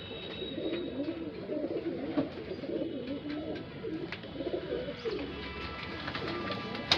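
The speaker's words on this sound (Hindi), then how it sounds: "कूंडेदार है ये कबूतर।" Shahjahanpuri breed pigeons coo steadily in low, rolling murmurs, several birds overlapping close by with a few faint chirps above, continuous throughout.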